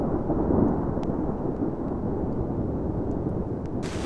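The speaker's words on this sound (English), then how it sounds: "Now the storm's blowing in pretty severely. The rain's starting to come down and the wind is whipped up, and the lightning just won't stop." A severe thunderstorm rolls in over an urban camping spot, with low rumbling thunder, wind and rain forming a continuous loud roar, and a brief sharper burst near the end.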